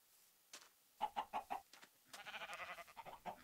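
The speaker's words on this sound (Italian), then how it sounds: "Bene, ci sono galline." Chickens cluck in the video game Minecraft: a short run of quick, close clucks followed by a burst of rapid, overlapping clucking.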